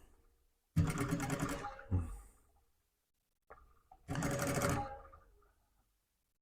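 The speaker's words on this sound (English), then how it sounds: "make sure that you sew straight and that you catch your seam at the bottom" A sewing machine topstitches the band of a fleece beanie in two close, steady bursts of rapid stitching, each lasting about a second, separated by a short pause with a brief clunk in between.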